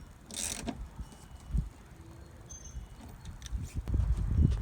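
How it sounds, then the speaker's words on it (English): A ratchet with a 17 mm socket tightens a fuel system part on a turbocharged Honda D16Y7 engine, producing soft, irregular clicking and metallic ticks close by with handling noises and no talking. "Now using the 17, we'll just tighten that down."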